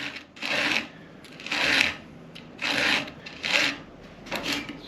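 A manual chainsaw sharpener files a chainsaw tooth in five steady rasping strokes with short pauses between them, close and fairly quiet, with no speech.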